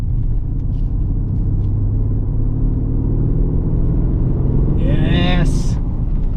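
A Mercedes ML63 AMG engine rumbles steadily while accelerating, a deep continuous drone from inside the car that briefly rises in pitch near the end.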